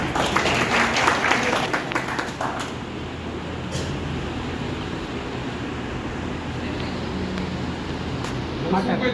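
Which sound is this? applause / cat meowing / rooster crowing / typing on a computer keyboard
applause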